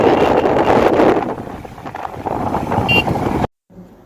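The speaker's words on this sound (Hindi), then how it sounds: "हवा और पानी का जो साउंड है ना आ रहा था" Wind blowing outdoors near water, a loud gusty rumble buffeting the microphone close up, easing slightly before cutting to near silence at the end.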